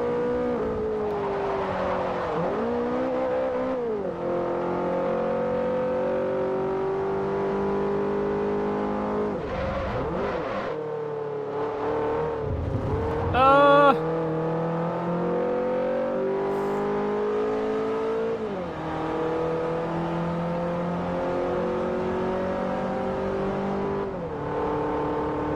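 A race car in the Forza Motorsport 4 video game drives fast, its engine droning loudly and rising and falling through gear shifts, with one brief break in the sound midway.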